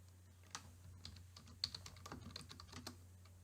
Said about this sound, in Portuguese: e vou digitar aqui.